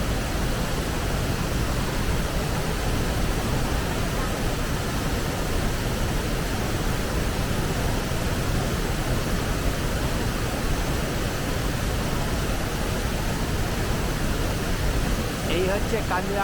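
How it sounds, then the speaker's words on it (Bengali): Kanchenjunga Falls in Sikkim, fed by water flowing down from Khecheopalri Lake, roars as a constant, dense rush of falling water, steady and close for the whole stretch, with no other sound breaking through. "এইখানে আসলে এই সামনে হচ্ছে খিচিগুড়ি লেক থেকে যে জলটা আসছে সেটার এটা হচ্ছে কাঞ্চনজঙ্ঘা ফল"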